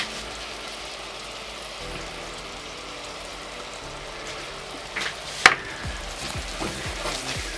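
Gluten-free flour cooks in a hot pan as the base for a lasagne sauce, giving a steady close sizzle with occasional sharper crackles and stirring scrapes partway through.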